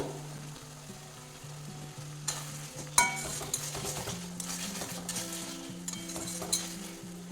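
Tomato goes into jackfruit and soya chunks frying in a pan, producing a steady close sizzle with stirring scrapes and a few metallic clinks of a utensil against the pan, a low hum underneath.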